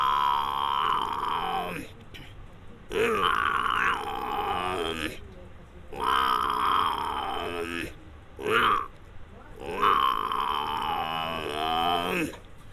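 A man imitates a buffalo with a series of long, low, groaning moos and grunts, repeated in roughly half a dozen drawn-out bursts separated by brief gaps.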